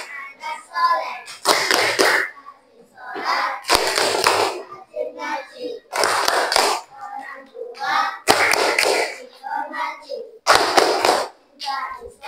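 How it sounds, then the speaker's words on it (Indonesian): Children in a fiqh class do a rhythmic clapping chant as an ice-breaker, with loud bursts of group clapping alternating with chanted voices in a repeating pattern. "Tepuk anak soleh."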